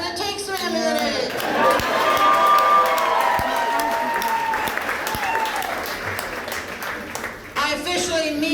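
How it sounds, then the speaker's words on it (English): Audience applause and cheering fill a comedy show room, steady and loud throughout, with shouts and a voice talking over the crowd noise. "Keep clapping."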